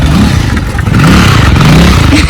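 A motorcycle that was recently repaired revs loudly and close by, its engine droning continuously with rising and falling pitch and a slight rattle, with no talking.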